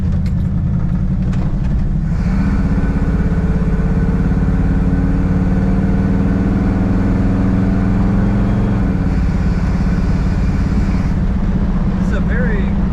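A 1938 Ford Deluxe five-window coupe with an automatic transmission idles smoothly and steadily close by, a low even rumble that holds for the whole stretch, with some talk faint over it.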